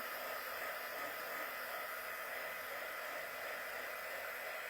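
A hair dryer blows steadily and continuously, drying a decoupaged spaghetti sauce jar, a loud close whooshing roar with no pauses and no talk.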